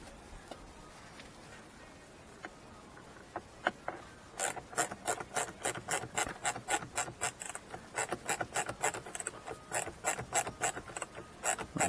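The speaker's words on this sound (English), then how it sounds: "Just take your time tightening up speaker screws." A screwdriver tightens speaker screws in the dash of a 1991-1993 Holden Calais VP, giving a close, rhythmic series of raspy ratcheting turns that grows steady and repetitive after a few scattered clicks.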